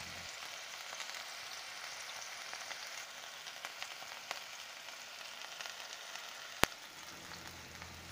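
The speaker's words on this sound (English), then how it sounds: "We will fry them from both the sides very nicely till it is taking a golden" Fish fillets frying on both sides in a pan for a Bengali doi shorshe dish, giving a soft, steady sizzle throughout with one sharp clack near the end.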